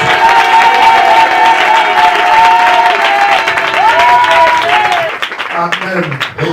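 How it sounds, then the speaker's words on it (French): A church congregation applauding and cheering loudly over music, the clapping fading near the end as a voice begins speaking. "On acclame pour la parole."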